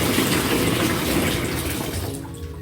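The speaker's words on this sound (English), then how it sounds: "So I'm using kettle that I boiled hot water in." Lukewarm water pours from a kettle as a steady splashing gush that tapers off near the end, close and alone with no talking.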